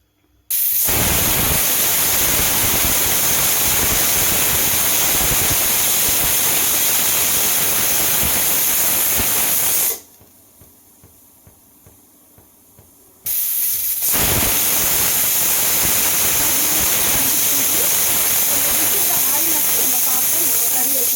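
A pressure cooker on the stove lets off loud, sustained hissing steam whistles while potato and green chana curry cooks, the blast cutting out for a few seconds midway before resuming just as strongly.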